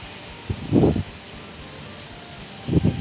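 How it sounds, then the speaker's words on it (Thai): Strong wind gusts during a rainstorm outside a fifth-floor high-rise apartment in Ramkhamhaeng, Bangkok, arrive as two brief rumbling buffets against a steady background hiss. "ตกแล้ว โอ้ลมแรง ลมแรง"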